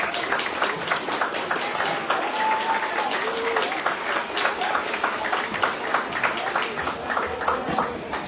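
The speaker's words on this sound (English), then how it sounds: "I want to start by giving a round of applause for all the volunteers" Sustained, dense applause from an audience at a youth project's annual awards ceremony, steady and fairly loud throughout with faint voices mixed in.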